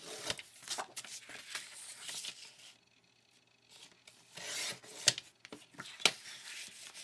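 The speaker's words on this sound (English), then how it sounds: "I'm just trimming along the black." Scissors or a trimmer cutting printed card paper along a black border, a quiet close series of soft rubbing, slicing snips with brief pauses between cuts.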